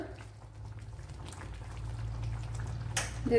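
Egg stew with coconut milk simmers in a clay pot at a steady bubbling boil, a soft continuous burble with a low hum underneath and a brief clatter near the end.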